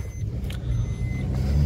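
A Maruti Baleno car fitted with a CNG kit, heard while driving: a low, steady engine and road rumble that swells slightly near the end, with no talk over it.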